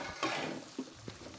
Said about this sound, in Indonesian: Kemudian aduk-aduk hingga semua bumbu tercampur merata dan meresap